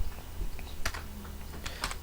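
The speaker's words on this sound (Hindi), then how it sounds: "शट डाउन यहाँ पे आपको टाइप करना है" Keystrokes on a computer keyboard while a Windows 10 shutdown command is entered, a few scattered soft clicks and a couple of sharper taps, close and fairly quiet, with no voice.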